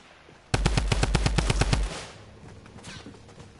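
Video game gunfire: a rapid automatic burst of about a dozen evenly spaced loud shots lasting over a second, followed by quieter scattered noises.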